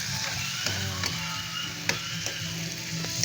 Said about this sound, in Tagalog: Gisain natin mabuti.